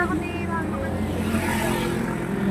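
A motorcycle engine drones steadily at a fairly even level. It stays partly masked by outdoor background noise and voices.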